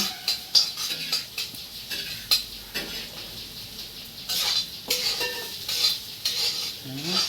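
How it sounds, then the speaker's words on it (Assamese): Pumpkin (ranga lao) frying in a pan, with a spatula scraping and clinking at irregular intervals over a soft, low sizzle, close and fairly quiet. "এতিয়া ৰঙালাও ভাজি বনাই আছে মায়ে।"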